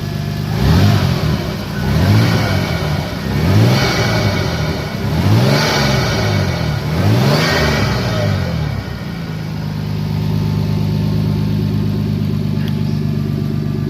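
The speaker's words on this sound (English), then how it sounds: "let's see what this intake sounds like" A Mk4 Toyota Supra Turbo with an aftermarket intake and HKS twin power ignition revs four times in a row, loud and close, each rise and fall sharp, then settles into a steady idle.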